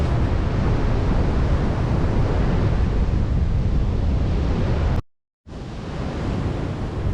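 Heavy, continuous roar of surf and strong wind buffeting the microphone on a Florida beach in Volusia County during Hurricane Nicole, loud and unbroken apart from a brief dropout near the end.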